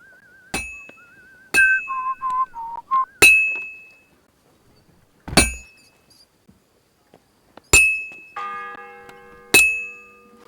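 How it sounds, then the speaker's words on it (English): A game world in Kingdom Come: Deliverance II gives out sharp metallic bell strikes, about six separate clangs, each ringing out and fading. A whistled tune plays between them, and a brief chord of tones comes near the end. "The first bell. Another 11 to go."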